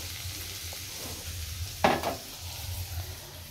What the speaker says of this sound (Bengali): এখানে সব রকম সবজিটা ভাজা হচ্ছে